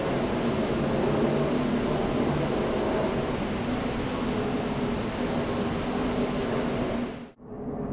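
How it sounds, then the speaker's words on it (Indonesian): A loud, steady roar of jet engines as a Mandala Airlines airliner accelerates down the runway at Medan for takeoff builds into a continuous wash of noise that suddenly dips near the end, then resumes. "pesawat mulai berakselerasi di landasan pacu agar segera mengudara menuju Jakarta."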